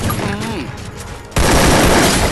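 An AWM sniper rifle shot in the Free Fire battle game erupts as a loud, sudden blast partway through, followed by sustained roaring noise to the end, with a voice heard beforehand.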